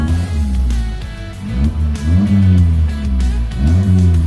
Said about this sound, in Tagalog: test drive muna natin mga bossing itong kotse ni sir